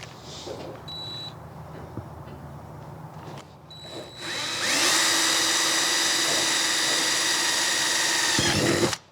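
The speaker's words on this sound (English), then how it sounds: "Once you've marked your threaded holes, then it's time to drill." Faint workshop noise and a short beep give way to a loud power drill with a dull 9/32 bit whining steadily for several seconds through plastic, then stopping abruptly.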